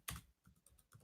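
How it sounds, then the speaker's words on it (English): A few soft keystrokes on a computer keyboard, heard as one louder tap followed by several faint, quick clicks, close and quiet with no talking. "I'll actually just go ahead and type that right in here."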